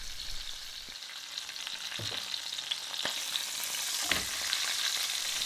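Duck breast searing meat side down in a hot pan, a steady close hiss of fat with a few soft knocks and shifts as the meat settles, gradually growing louder, with no voices.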